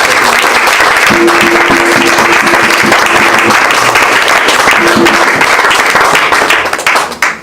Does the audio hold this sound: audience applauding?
yes